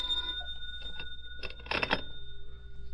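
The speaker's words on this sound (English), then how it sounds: "It was about 4 p.m. when the phone rang." A telephone bell rings in an old-time radio detective drama, a few quick metallic bursts of ringing mid-clip over a faint steady hum, fairly close.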